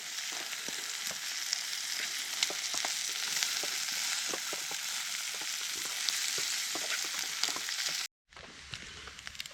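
Sausages and red onion fry in a pan at a bushcraft basecamp, a steady bright sizzling hiss with occasional pops and crackles, close and unbroken until it cuts out abruptly near the end.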